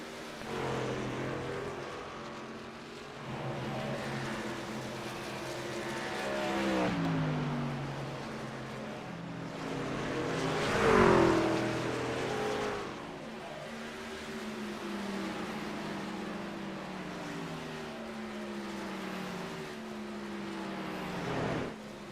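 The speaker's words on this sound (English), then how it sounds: "He had a much faster pit than Nick Lucia, so you look at them on the racetrack. There's the 27 entering turn 3, and there's Nick Lucia." Race cars roaring around the oval at Iowa Speedway during a playoff race, a steady loud engine drone with one car swelling past close by mid-way, then fading back into the continuous pack noise.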